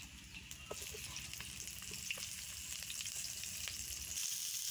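Finely chopped onion sizzling in mustard oil in a pot on a clay stove, a steady close crackling fry with light stirring and faint animal sounds in the background.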